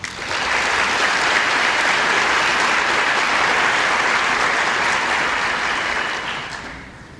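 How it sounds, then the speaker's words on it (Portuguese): An audience at a religious talk applauds the volunteers with sustained, dense clapping that holds steady for several seconds, then tapers off. "Eu queria pedir uma salva de palmas para todos os voluntários."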